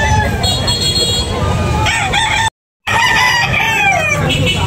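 Rooster crowing loudly at a chicken sale in Carbon market, Cebu, with a rising-falling harmonic crow and a second crow, over busy market background noise and brief cut.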